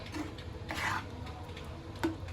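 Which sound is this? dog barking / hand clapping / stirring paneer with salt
stirring paneer with salt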